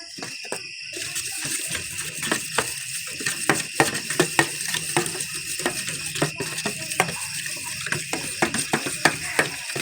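Hissing sizzle with repeated clicks and crackles of spices and turmeric frying in a pan, fairly close and continuous without speech.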